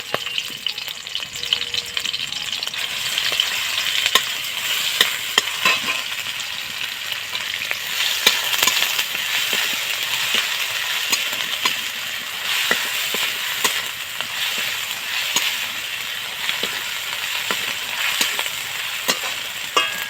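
Garlic paste frying in oil with chopped green chilies gives a steady, loud sizzle, punctuated by frequent stirring scrapes and clicks of a spoon against the pan over twenty seconds.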